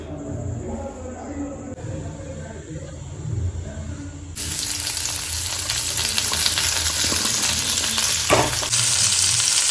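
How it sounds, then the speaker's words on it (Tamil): Mango pieces drop into hot oil with mustard seeds, and a quiet background suddenly becomes a loud, dense frying sizzle that carries on steadily, with a clatter and some talk. "கடுகு பர்ஸ்ட் ஆனோடனே மாங்காவை டைரெக்டாக அப்படியே பேனுக்குள்ளே போட்டுடணும்."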